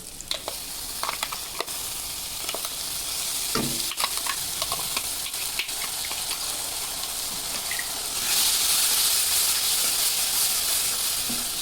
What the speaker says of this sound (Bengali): ভালো করে কষিয়ে নাও।